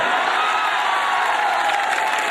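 An audience at a Kumar Vishwas poetry recital breaks into loud, dense applause, a steady wash of clapping that fills the whole stretch without pause.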